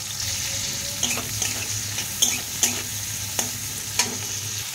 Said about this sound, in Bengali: এবার তেলের ওপর দিয়ে দেবো কুচিয়ে রাখা পেঁয়াজগুলো। পেঁয়াজগুলো দিয়ে 2 মিনিট মতো ভেজে নেব তেলের সাথে।